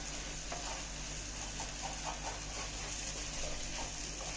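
Ground spices with turmeric sautéing in a pan for pepper kulambu, a faint, steady low sizzle with soft irregular stirring ticks, close but quiet, with no talk.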